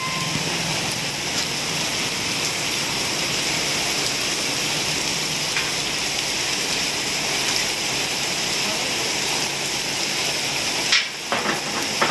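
Heavy rain pours down in a dense, steady hiss that fills the air without pause, with a brief knock and rustle near the end.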